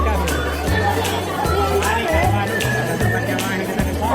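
Bustling crowd hubbub at the Khatu Shyam temple fair, a dense murmur of many voices close around with steady low rhythmic thumping beneath.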